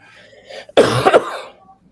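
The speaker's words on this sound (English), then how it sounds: "If I go back through and have to edit out all these coughs" A person coughs in one harsh, loud burst of a few rapid barks close to the microphone, with a lighter throat-clearing rasp just before and quiet room tone trailing after.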